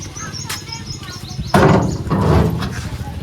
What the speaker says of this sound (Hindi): दरवाज़ा भी खुल गया है